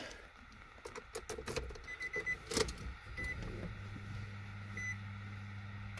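A car engine is started: clicks and a short crank burst, then the engine catches and settles into a low, steady idle hum, heard close by and fairly quietly with no talking.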